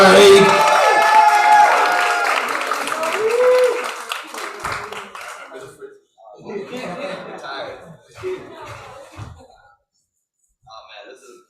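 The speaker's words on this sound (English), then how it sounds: "Clap as Maddie comes to the mic." An open mic audience applauds and cheers loudly as a performer walks up, the clapping fading within a few seconds into scattered chuckles, murmurs and talk.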